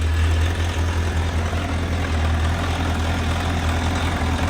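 A 1998 Honda CBR1000F motorcycle engine idles steadily nearby, a continuous low rumble with an even throb and no talking.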